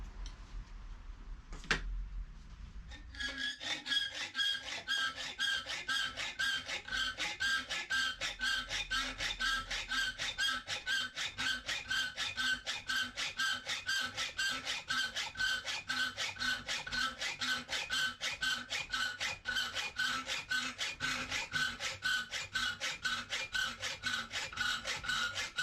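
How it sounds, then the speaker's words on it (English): A hand file rasps back and forth on a metal track saw clamp in steady, rapid rhythmic strokes, close and continuous for over twenty seconds after a brief clunk at the start. "We'll do a quick file out"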